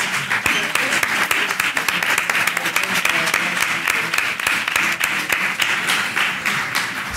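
A theatre audience applauds the actors after a restorative justice circle performance, dense sustained clapping from a full room lasting throughout, steady and fairly loud with sharp individual claps standing out.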